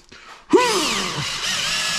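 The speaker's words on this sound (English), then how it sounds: "I find if you don't go really fast with drill bits, they last longer." A power drill with a carbide bit spins up sharply and bores steadily into metal while mounting a transmission cooler, giving a loud whine with sweeping pitch that holds on close to the listener, with no talking.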